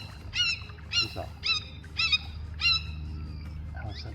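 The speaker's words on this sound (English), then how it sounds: "some kind of hawk" Some kind of hawk calls out in the wild near Gilley Creek, east of Bradenton: five sharp, high, harmonic screeches in a steady rhythm, moderately near, with quiet ambience between.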